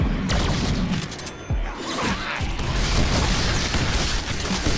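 Explosions in the Deadpool video game go off in a dense, loud barrage of booms and bursting pops, layered over continuous game noise throughout.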